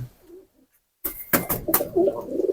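Pigeons coo softly after a brief silence, with a few rustles and flutters nearby, several low murmuring calls overlapping.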